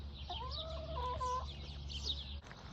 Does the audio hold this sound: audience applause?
no